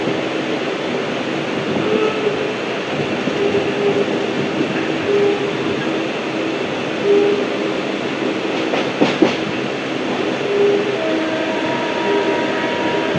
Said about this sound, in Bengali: শিয়ালদা অবধি যাওয়ার এটি একটি 12 বগির ধীর গতির ট্রেন।